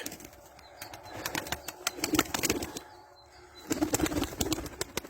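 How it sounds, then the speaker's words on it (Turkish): Pigeons, including a white crested one, flap their wings and take off outdoors in falling snow, giving bursts of rapid wingbeats with a few soft chirps; the flutters come in clusters, fairly near, with a quieter pause in the middle. "Kuşlar kalkıp gidiyorlar bakın."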